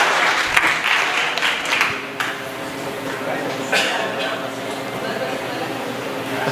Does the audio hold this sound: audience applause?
yes